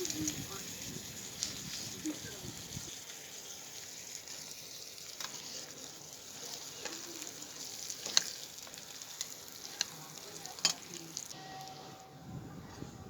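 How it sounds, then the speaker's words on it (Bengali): Washed basmati rice fries in a pan as biryani is being made, giving a quiet, steady sizzle with scattered crackles and light stirring scrapes, while a voice talks throughout. "দেখুন চালগুলো হালকা ভাজা ভাজা হচ্ছে"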